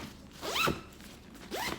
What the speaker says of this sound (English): once you close this zipper, it's more condensed.